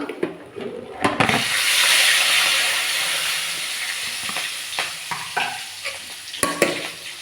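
Leaves hit hot oil with a loud burst of sizzling that slowly fades, broken by several sharp clinks and stirring scrapes.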